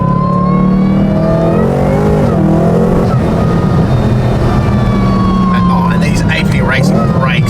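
A supercharged BMW M3 with a centrifugal supercharger revs hard and loud up close, its engine note rising and falling with supercharger whine through the run, while a voice talks over it.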